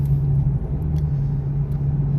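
A Ford Mustang fitted with 3.73 gears cruising slowly, a steady low engine drone and rumble heard from inside, even and unbroken.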